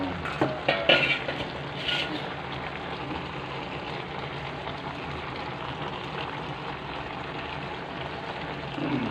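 Chicken, pea eggplants and fresh lemongrass are stir-fried in a pan, giving a steady sizzle with scraping and stirring clinks that are louder and choppier at first, then settle into a continuous fry with no talking.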